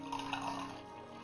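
Liquid pouring in Oblivion Remastered, a steady watery stream running for just over a second at moderate, even loudness with no talk over it.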